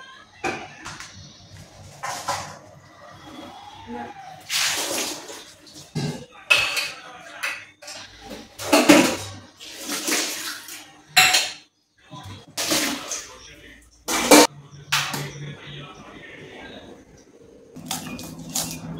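Hot water poured into a milk bottle in a home kitchen while it is rinsed. Clattery knocks, sloshes and drips come in bursts, with pauses between them.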